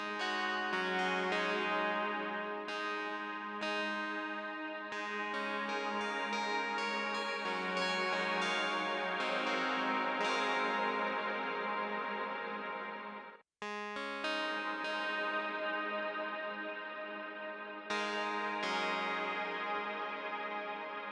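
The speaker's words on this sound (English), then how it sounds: "you can hear the modulation happening inside that, the reverb network, whatever they're doing to it." Electric guitar chords ring out through a Walrus Audio Qi Etherealizer pedal, with a large, diffused reverb tail that slowly wavers under modulation; strums repeat every few seconds, one brief gap in between.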